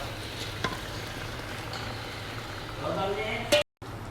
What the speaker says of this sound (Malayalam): നാരങ്ങ അതിൽ ഇട്ട് കൊടുക്കുക നന്നായി മിക്സ് ആക്കി കൊടുക്കുക